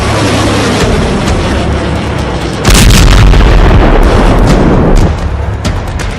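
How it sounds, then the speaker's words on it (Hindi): Ballistic missile strikes explode on military sites in southern and central Israel, heard as a sustained, loud, rumbling barrage of booms that intensifies sharply partway through, with no talk. "ईरान ने लंबी दूरी की घातक बैलिस्टिक मिसाइलों से कैसे दक्षिणी और मध्य इजराइल में मौजूद इजराइल के सैन्य ठिकानों को रौंद डाला"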